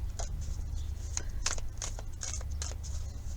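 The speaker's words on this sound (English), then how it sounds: "I'm just pulling out the Native American Tarot to start with, and I'm shuffling" Native American tarot cards are shuffled by hand, giving a run of soft, quick riffling clicks and slaps over a low background hum.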